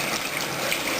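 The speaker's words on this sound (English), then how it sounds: "first off you want to rinse your controller out" Tap water runs steadily over a game controller being rinsed under a faucet, a constant close splashing hiss with no speech.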